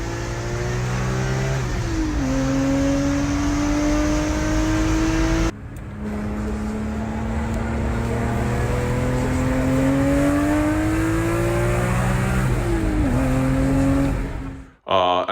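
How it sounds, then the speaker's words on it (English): A BMW E39 with Borla exhaust mufflers revs repeatedly, rising and falling in pitch in a loud, close, throaty exhaust roar, with a short break in the middle and a sharp cut at the end. "the exhaust mufflers are Borla. They sound really good. I'll insert an exhaust clip."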